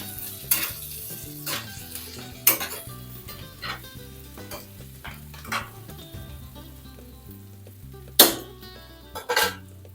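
Food frying in a pan on a stove is stirred with a utensil, steady sizzling under repeated scraping and clinking of the spoon against the pan, with a few sharper knocks.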